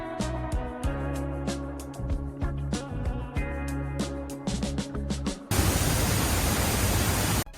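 Music with a steady beat plays first, then the rushing Tegenungan waterfall in Bali during rainy season takes over, its fast, swollen flow a loud, continuous broadband roar for the final two seconds.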